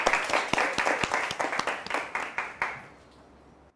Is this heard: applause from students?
yes